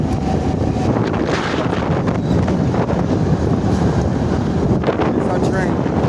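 A freight train between Yuma and Tucson, heard from inside a car as a steady, loud rumble and rattle mixed with rushing wind noise.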